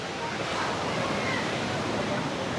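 Ocean waves wash onto the beach at a resort in Nusa Dua, Bali, a dense, steady roar of surf that fills the whole scene without letup.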